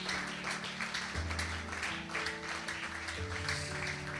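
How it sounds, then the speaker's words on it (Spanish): A church congregation at a Spanish-language evening worship service claps steadily and continuously beneath sustained keyboard and bass music, with the applause forming a dense, even wash throughout. "Le damos un aplauso fuerte a nuestro Dios en esta noche."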